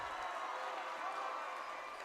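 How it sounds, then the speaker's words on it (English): Excited crowd cheering at a boys high school basketball game, a steady broad roar held throughout at moderate distance, with an announcer talking over it. "and this crowd is ecstatic."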